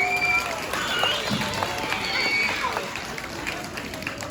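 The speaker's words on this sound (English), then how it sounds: "Please give them a round of applause." Audience applause at an elementary school K–3rd grade Black History program, a steady wash of hand claps filling the room for several seconds and slowly tapering, with some scattered voices mixed in.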